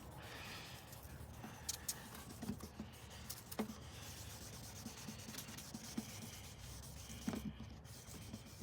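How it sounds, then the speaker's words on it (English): Soft, steady rubbing and rasping of wet sanding a 1998 Lexus headlight with a Turtle Wax restoration kit, quiet and close, with small scratchy ticks and taps scattered throughout. "we're essentially just wet sanding here."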